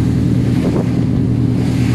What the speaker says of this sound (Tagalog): makalakasan ang alon